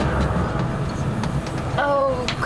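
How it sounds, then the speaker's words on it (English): Overnight passenger train running from Cairo to Luxor across Egypt, a loud, shaky carriage rumble with rattles and clicks, plus a brief high squeal near the end, heard from inside a sleeper compartment. "this train is very shaky"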